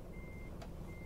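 Reversing beeps from a truck in Euro Truck Simulator, a thin, faint, steady electronic tone over a low engine rumble, with a brief click partway through.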